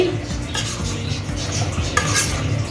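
A spoon stirs Chettinad chicken gravy masala in a metal pan, making repeated scraping and clinking strokes over a soft sizzle, close and steady with no speech.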